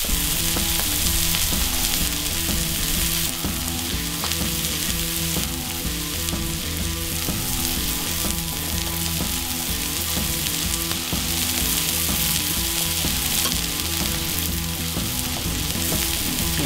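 Burger buns buttered on both sides fry on a Cuisinart 360 griddle with a dense, steady sizzle that is loud and continuous, nearly drowned by music playing throughout.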